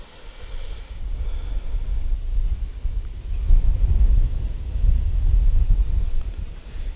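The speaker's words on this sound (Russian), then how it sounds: "Ветер, блин, очень сильно нам мешает" Strong wind buffets the microphone while fishing outdoors in Ryazan Oblast, Russia, a low, rumbling roar that swells and stays heavy for most of the stretch, with no one talking.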